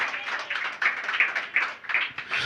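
A church congregation clapping hands together at a pastor's call, dense continuous applause from many people with a steady pulsing rhythm, filling the room without any speech.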